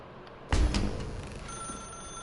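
An old-style telephone bell rings in The Stanley Parable, a single loud ring starting abruptly and fading slowly in an otherwise quiet room.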